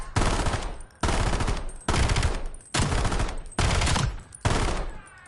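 Bursts of rapid automatic gunfire from a glitched weapon in Black Ops 7 on PS5, six loud bursts of about a second each, separated by brief pauses, with no talk.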